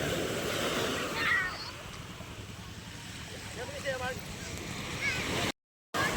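Calm sea waves wash steadily beside a fish terminal at Julugan, Tanza, Cavite, a soft broad rushing with faint voices in the background.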